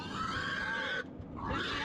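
A pig grunting close by, a dense, rough run of snorts that pauses briefly midway and then resumes, on a backyard farm in the Philippines.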